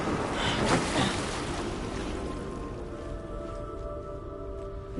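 A dense, muffled watery rush fills the space, a steady underwater ambience with faint bubbling and a low sustained tone toward the end.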